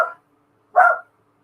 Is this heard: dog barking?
yes